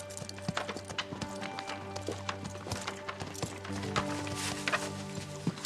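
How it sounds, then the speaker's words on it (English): A horse's hooves clip-clop along at a walking pace in a steady, close rhythm, the clattering strikes set over a droning tonal hum and faint background murmur in a medieval drama scene. "A horse."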